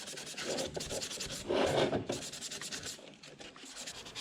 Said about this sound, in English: sanding the inside part here, making sure everything is sanded so when we paint, we don't get any chipping years down the line